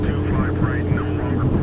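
A seaplane flies in the video game Arctic Awake, a steady droning propeller hum heard from inside the aircraft while people talk over it.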